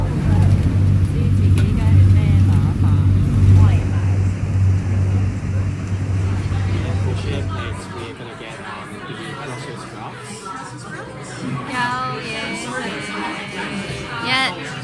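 A loud boat ride, heavy low engine rumble and rushing noise for the first half, then dropping away to quieter background as people chatter and talk over it.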